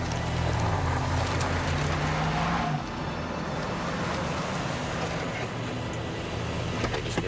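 A car drives along with a loud, steady engine and road rumble that drops slightly in level partway through and then continues evenly, with no talk.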